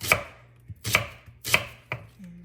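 A knife chops through onions on a board in four sharp, evenly spaced strokes, each a crisp crunch against the wood, close and loud with no talk.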